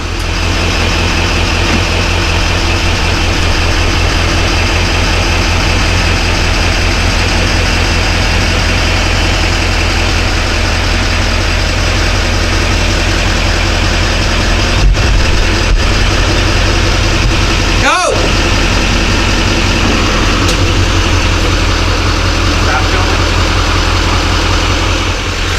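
Truck engine idling while backing toward the kingpin of a Grand Design Reflection 367BHS fifth-wheel trailer, a loud steady low rumble throughout with a brief knock or clunk partway through, no talking.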